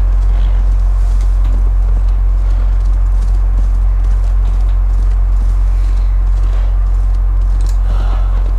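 Horse hooves clip-clopping in Assassin's Creed Valhalla, a steady walking rhythm over a loud constant low hum and ambient game sound, with no talking.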